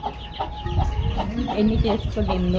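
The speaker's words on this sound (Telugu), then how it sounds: "చూడండి మా కోడి పిల్లలు" Chickens and chicks in a village garden cluck in quick, uneven bursts, close and clear, while a person talks over them.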